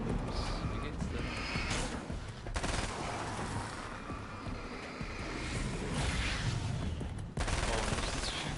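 Gunfire in the video game Alan Wake's American Nightmare, a dense, steady barrage of shots with heavy impacts and a few sharper bursts, continuing throughout.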